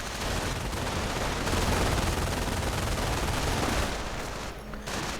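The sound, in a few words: German machine gun and rifle fire in a video game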